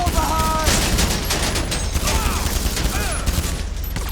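Gunfire in GTA 5 Online while taking out a sniper, a dense rattling volley of shots running continuously over game background sound.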